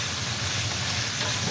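Sausages sizzle steadily in a hot pan while being stirred, a constant close hiss with no clear breaks and no talking.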